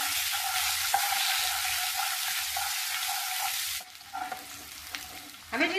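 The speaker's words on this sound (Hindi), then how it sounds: "ये मैंने 8 अंडे लिए हैं और उबाल लिया था और हल्का सा हम इसे सॉटे कर लेंगे।" Eight boiled eggs sizzle steadily in hot oil in a pan for a spinach egg curry, a loud continuous frying hiss with occasional stirring clinks, then the sizzle drops away sharply near the end before a brief burst returns.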